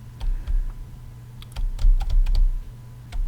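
Computer keyboard arrow keys are pressed in a scattered series of sharp, close clicks, some tapped singly and some in quick bursts, with no voice over them.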